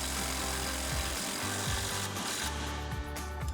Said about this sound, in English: now we're gonna switch to our 18mm socket and a 19mm wrench and tighten our bottom bolt